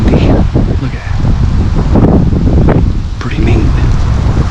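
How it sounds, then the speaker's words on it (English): Strong, gusty wind roars and buffets across the microphone high in a tree stand while deer bow hunting, a continuous low rumble with rustling, while a person speaks quietly underneath. "It's windy."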